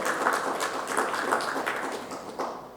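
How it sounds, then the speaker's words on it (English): Applause from an audience at a healthcare summit and CSR awards ceremony, a steady wash of many hands clapping at moderate, somewhat distant level for a few seconds with no talk over it. "Maybe they need a little bit of applause."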